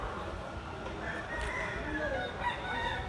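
A Kelso bloodline gamefowl bullstag with white legs crows over a steady wash of outdoor background noise, with murmuring voices nearby.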